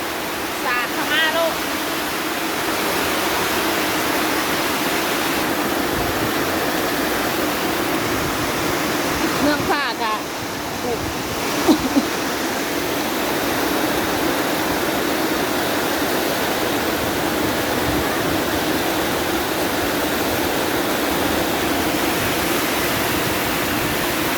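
Heavy rain pours steadily during a storm, a dense, continuous broadband rush that stays loud and even throughout, with a few brief knocks and faint voices in the background.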